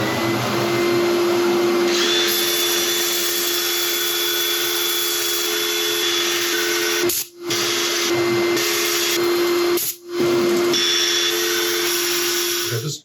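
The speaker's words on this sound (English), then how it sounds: "I'm going to set up for sanding" Steady whining hum of a lathe with sanding hiss on a black locust burl wooden bowl, running continuously with two brief cutoffs near the end.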